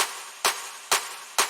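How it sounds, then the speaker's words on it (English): Three crisp electronic claps spaced evenly in a drum track, bright and sharp with short decays, heard alone. "Claps like this."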